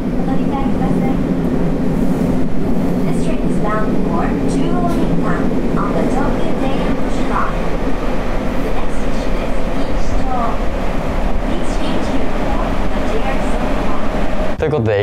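A Tokyo Metro Hanzomon Line 30000 series train running, heard from inside the carriage as a steady rumble with rhythmic rail clatter and rising and falling motor whine, with announcements over it.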